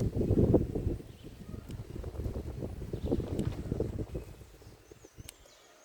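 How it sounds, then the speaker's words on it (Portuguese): Outdoor wind gusts buffet the microphone in a garden while succulent cuttings are harvested, a strong rumbling blast at the start that eases into steady, fluttering wind noise for the rest. "O vento tá querendo arrastar minha bandeja aqui."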